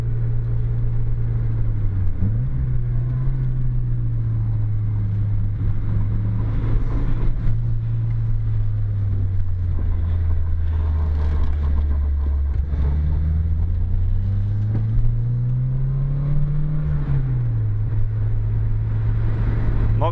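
A Toyota AE86 on a Mt Akina mountain road: its engine drones steadily throughout, pitch dipping and rising with the throttle through corners, with no voices over the constant cabin rumble.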